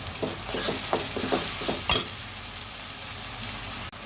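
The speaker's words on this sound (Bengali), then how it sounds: "এখন দিয়ে দিচ্ছি আদা রসুন পেস্ট, ওটা আমি 2 মিনিট নেড়ে চেড়ে নিব।" Ginger-garlic paste sizzles in a hot pan while being stirred, with a few sharp scraping strokes early on, then a steady close frying hiss.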